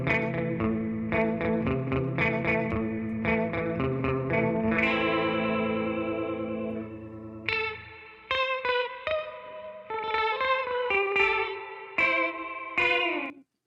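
Electric guitar track with a faux double-tracking effect panned wide in stereo, a chorused, slightly distorted riff of picked chords and notes, then sparser staccato phrases, steady and clear without talk.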